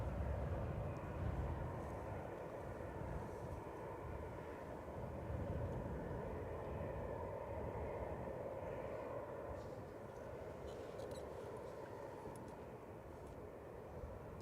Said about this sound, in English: Let's focus on the A380.